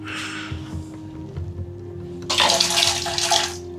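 Water gushing from a tap into a washbasin at a hilltop temple, a steady splashing rush that starts abruptly partway through over a low background hum.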